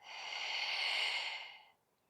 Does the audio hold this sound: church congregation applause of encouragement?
no